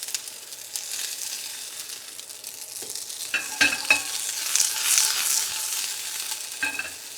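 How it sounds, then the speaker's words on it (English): Asparagus spears sizzling in hot oil in a pan over high heat, a soft steady fry with a few sharp crackles and stirring clatters, close by with no talking. "We want to get them completely covered in the oil and cook these on a high heat."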